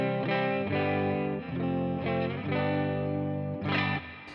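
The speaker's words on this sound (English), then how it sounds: "And here's what the neck pickup sounds like." Gibson Explorer electric guitar on its neck pickup, strummed chords ringing with heavy distortion and effects, several sustained chord hits with a brief pause near the middle, close and loud with no talking.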